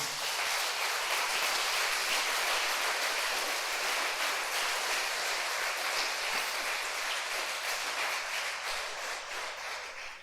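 A church congregation applauds during a Portuguese-language evening service, a dense, steady wash of many hands clapping at moderate distance that holds throughout and tapers slightly at the end.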